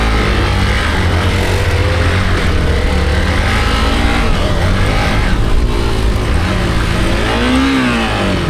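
A Bajaj Dominar 400 motorcycle off-roading on a dirt trail at Dhikidada near Pokhara, its engine droning loud and steady, with shifting revs and no speech.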